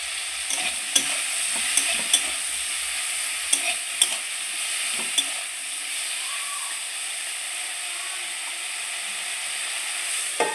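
Potato and eggplant pieces fry in hot oil in a pan, giving a steady bright sizzle and hiss, with a few sharp clicks and scrapes of a spatula stirring early on.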